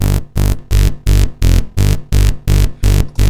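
A gritty FL Studio synth bass run through blood overdrive and fast distortion pumps in a steady stream of about ten loud, evenly spaced notes, each dense and buzzing with a sharp attack.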